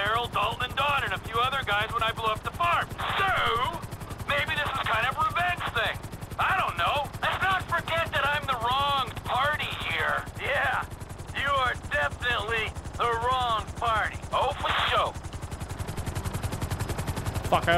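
In GTA 5, a helicopter comes in to land with a steady, rapid rotor chop that runs the whole time. A voice talks over it, and bursts like gunfire come through.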